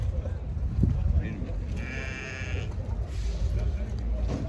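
At a livestock market, sheep and lambs bleat under men's conversation, with one clear, drawn-out bleat close by in the middle and further calls fainter behind the talk and crowd noise.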